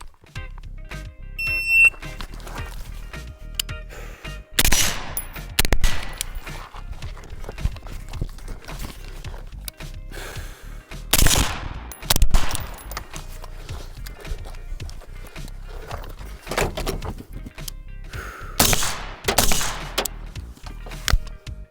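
Series of sharp gunshots fired during a timed shooting drill with a shot timer, loud cracks spread irregularly across the run with short pauses between strings, no talking.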